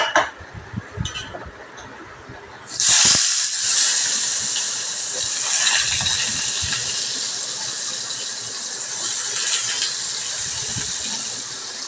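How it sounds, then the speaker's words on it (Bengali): Sliced potatoes and pointed gourd dropped into hot oil in a frying pan: a few clinks and faint sounds first, then a sudden loud hissing sizzle that continues steadily and close for the rest of the clip. "আলু পটলগুলোকে আমি প্রথমে তেলের মধ্যে হালকা করে ভেজে নেব।"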